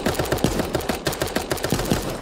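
Rapid automatic gunfire in a video game rattles in a continuous stream of sharp bursts, loud and close, with no voices.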